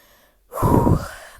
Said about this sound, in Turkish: nefes nefese kaldım ararken